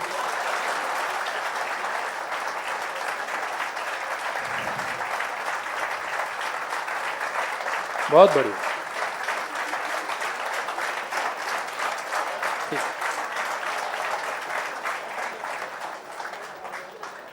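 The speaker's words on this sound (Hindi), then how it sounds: "तालियां नहीं रुकनी चाहिए" Sustained applause from an audience welcoming a UPSC topper on stage, steady dense clapping throughout, with a voice briefly speaking over it and the clapping tapering off at the end.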